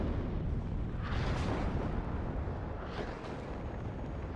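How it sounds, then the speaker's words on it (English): Artillery and mortar shells explode in the WARNO wargame, a dense continuous rumble of distant blasts with a couple of sharper bursts standing out, loud and steady throughout with no talk. "Look at all of that artillery coming in, all of those mortar shells"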